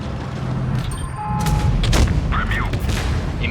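A tank cannon shot rings out in World of Tanks Blitz, a heavy booming blast near the middle of the clip over rumbling engine noise and other battle sounds, with further impacts after it.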